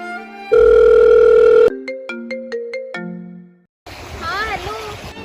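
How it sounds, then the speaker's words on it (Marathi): A phone gives off electronic tones during a call: a long sustained ring, then a quick series of short beeps and stepped dial-style tones, followed by a pause and a burst of warbling, noisy ringtone sound, loud and close. "फोन करून बोलो तिला."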